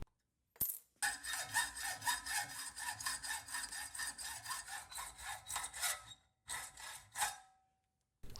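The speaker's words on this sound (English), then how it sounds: "I've got a chunk of round bar here that I'll cut off a little extra long for the main body of the tool" Hand saw cutting through a chunk of metal round bar, a steady run of back-and-forth rasping strokes close to the microphone that starts after a sharp tap, pauses near the end, then resumes briefly.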